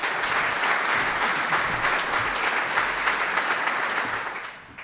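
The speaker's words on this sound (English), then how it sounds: "So please give a big hand of applause for Baroness Taylor of Stevenage." Audience applause at a launch event for a speaker, a dense, loud, sustained round of clapping that fades away at the end.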